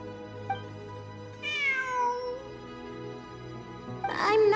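A cat meows twice in the Genshin Impact video game, one drawn-out mew and a sharper call at the end, clear and fairly close over a steady low in-game ambient hum.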